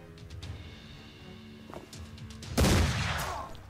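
Gunshot from the video game Mordheim: City of the Damned, a loud sudden blast about two and a half seconds in with a decaying rumble, following quieter game ambience and faint clicks.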